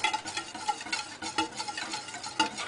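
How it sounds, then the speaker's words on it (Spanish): Egg yolk cream is stirred in a pot on the stove, a spoon scraping and swishing in quick, rhythmic strokes close by, with no talking. "ahora lo dejaremos al fuego hasta que se espese, pero sobre todo tenemos que irlo removiendo."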